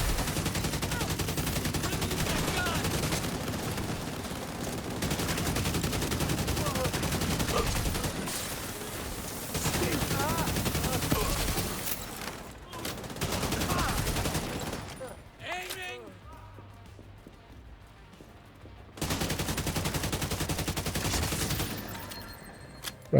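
Dense gunfire in a wave-based video game shooter, rapid automatic bursts firing almost nonstop for long stretches with brief lulls between volleys, a voice speaking at times.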